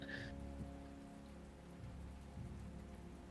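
Steady rain falls at night as a soft, continuous background hiss, quiet and even, with no voices.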